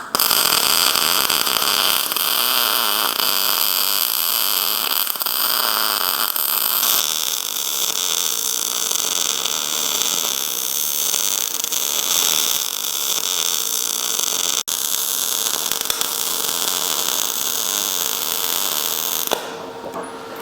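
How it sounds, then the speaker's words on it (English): MIG 2800i welder running a vertical-up weld on steel, a steady loud hiss and crackle of the arc lasting about nineteen seconds before cutting off, with no talk. "that's about the most you want to weld vertical up"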